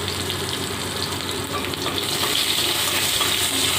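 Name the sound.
potato pieces frying in oil with salt and turmeric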